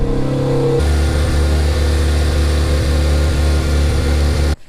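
A turbocharged RX-7 FD engine with a big single turbo, leaking coolant from a hose, runs loud and close with a steady, throbbing rumble, then cuts off abruptly at the very end.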